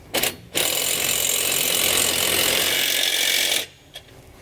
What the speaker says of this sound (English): When tightening down your carriage bolts, you want to make sure you go back and forth to tighten those down evenly.